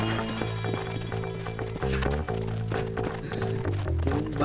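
A horse gallops in the Red Dead Redemption video game, rapid hoofbeats drumming under a loud tonal music score, with occasional thuds and a brief voice over the mix.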